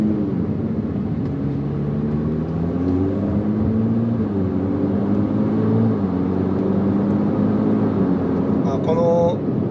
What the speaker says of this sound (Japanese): 意外とねエキゾーストの音が音量が大きめなんですね